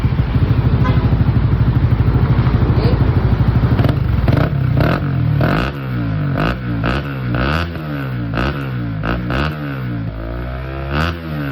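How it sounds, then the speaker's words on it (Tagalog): A Honda Winner X motorcycle with a Villain GP1 exhaust and silencer idles with a rapid putter, then revs up and down several times in sharp bursts, loud and close, with no talking. "Soundcheck naman natin itong GP1 sa Winner X ng may silencer."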